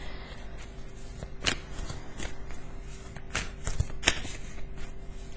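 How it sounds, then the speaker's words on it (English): Tarot cards are shuffled by hand in a steady run of soft, close riffling and tapping with irregular sharper snaps, under a faint constant hum. "I don't even know why I'm shuffling these cards."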